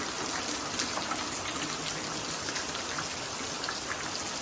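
Unseasonal rain falls steadily on a village farm, a continuous even hiss of drops with no break, moderately loud and with no voices.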